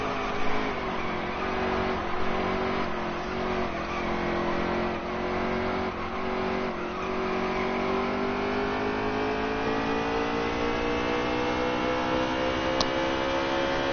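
NASCAR Heat 3 race cars lapping an oval track, a steady loud engine drone with rising pitch as the cars accelerate down the front stretch, no talk.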